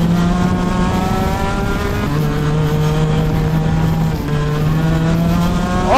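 An Alpha X30 two-stroke 30 hp racing kart engine revs loud and close, its buzzing pitch climbing and dropping through repeated accelerations as the kart drives on the track.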